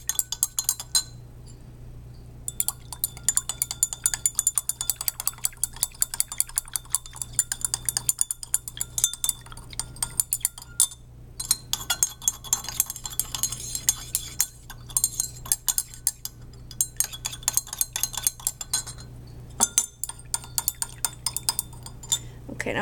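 A spoon stirs sugar and table salt dissolving in water in glasses, giving steady rapid clinks and taps against the glass, close and fairly loud, with a few short pauses and a low steady hum beneath.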